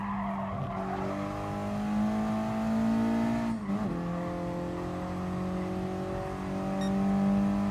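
A 1996 Mitsubishi Lancer Evolution 4 races in GT Sport, its engine droning loud and steady as the pitch rises and falls through gear changes and cornering, with a brief dip midway.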